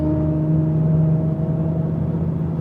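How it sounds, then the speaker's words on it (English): A car with loud aftermarket exhaust pipes revving hard nearby, a deep droning engine roar with a steady throaty rumble and a slight dip as the revs ease, heard alone. "these guys in these cars with these loud pipes, they'll get beside you, and it's like no sooner than they close to you, they'll hit it real hard."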